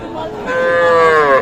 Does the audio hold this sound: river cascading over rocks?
no